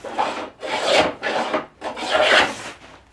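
Iron rabbet plane shaving wood while molding a seat, five rasping strokes in steady rhythm, close and fairly loud with short gaps between passes.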